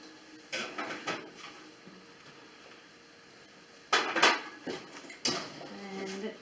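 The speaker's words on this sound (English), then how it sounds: "Lay this in the oven." A bread pan clunks into a home oven in a few short metallic knocks and scrapes, with a louder clatter near the middle and another toward the end over a quiet kitchen room tone.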